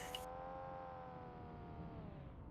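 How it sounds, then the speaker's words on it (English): Race cars revving during a youth qualification test race at Sochi Autodrom, a faint, steady engine drone with sustained harmonic whine heard from a distance for the whole stretch. "You can probably hear the cars revving in the background."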